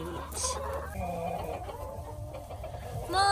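Silkie chickens, muddy hens in a straw-bedded coop, cluck and murmur softly in short bursts, with a person's voice talking over them and a louder squawk near the end.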